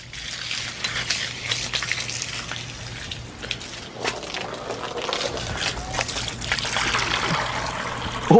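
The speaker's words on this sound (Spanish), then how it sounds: "Estoy desperdiciando mucha agua." Water runs in a steady trickle, probably from a tap or hose into a bucket outdoors, a continuous close splashing flow that stays even for several seconds and swells slightly toward the end.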